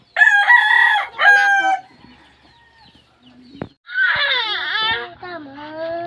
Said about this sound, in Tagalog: Ito manok. Manok to. Manok ta.